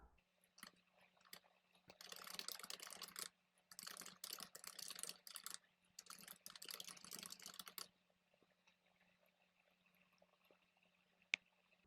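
Typing on a computer keyboard in three quick bursts of close, crisp key clicks separated by short pauses, then near silence with a faint hum and one sharp click.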